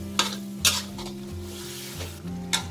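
Bamboo shoots and chicken stir-fried in a pan with a little water, a few sharp utensil scrapes against the metal punctuating a steady sizzle, no voices.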